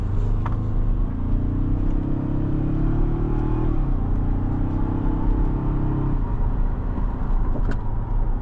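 Inside a 2024 Toyota Tacoma Limited making a U-turn, a steady low engine and road rumble fills the cabin, its pitch rising and then dropping as the truck eases through the turn.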